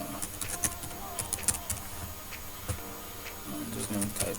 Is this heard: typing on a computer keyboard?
yes